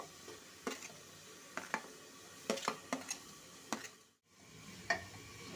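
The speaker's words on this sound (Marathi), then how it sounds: "आता हे झालंय, आपण टमाटर प्युरी टाकू." Spices fry in a pan as tomato puree goes in, with a spoon scraping and clinking against the pan at irregular intervals over a faint, steady sizzle.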